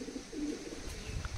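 Pure Golden Eyes pigeons coo softly, low and faint, in a short murmuring phrase with a little background rustle and no talking.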